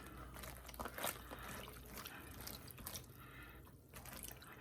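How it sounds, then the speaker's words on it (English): Vinegar poured into a container of eggplant pieces soaking in salt water, a continuous close splashing, trickling pour running steadily throughout with no talking. "And now what I'm going to do is add vinegar."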